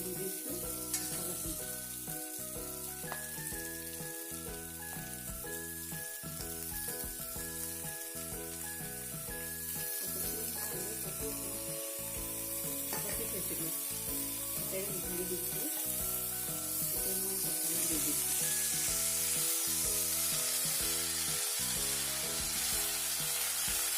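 Potatoes fry and get stirred in a pan for a banana-stem and red-lentil curry, a steady sizzle with repeated scraping strokes of a spoon, close and continuous, with faint background music tones throughout.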